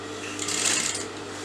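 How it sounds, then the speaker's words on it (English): Sewing machine stitching folded blouse fabric, a brief steady whir with a soft rise in the middle, close and fairly quiet, no talk. "let me sew this together."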